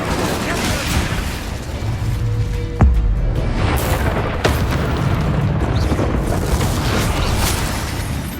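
Incendio fire spell cast during combat in Hogwarts Legacy, a burst of fiery whooshing and booms amid a dense, continuous battle din with sharp impacts near three and four and a half seconds.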